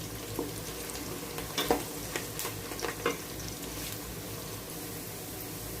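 Onions sizzle and fry steadily in a pan while cooking paya, with a constant crackling hiss broken by a few louder pops and stirring scrapes near the start.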